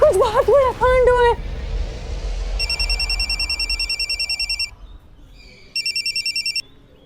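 A telephone rings in two bursts of repeated electronic trills, the first long and the second shorter, after a brief stretch of voices and background noise.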